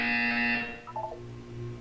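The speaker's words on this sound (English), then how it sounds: "You will hear a buzzer. When you hear the buzzer, look up at the ceiling." A harsh electronic buzzer from the video game Portal 2 blares loudly for about half a second, followed by a brief descending electronic tone.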